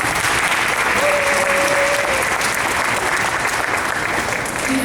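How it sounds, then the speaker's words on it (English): A school auditorium audience at a children's grief awareness event gives a round of applause, a full, steady wash of many people clapping that stays loud and even throughout. "I think we should give everyone that put this together a big round of applause."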